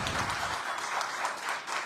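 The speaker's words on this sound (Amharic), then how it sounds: "አጨብጭቡለት።" An audience at a Washington DC Q&A event for Jawar Mohammed's book breaks into applause, a brief, moderately loud patter of many hands.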